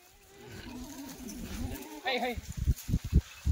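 Kathewadi goats bleat briefly among a herd, with a short wavering call near the middle, followed by scuffing and thumps close by while people talk over the animals.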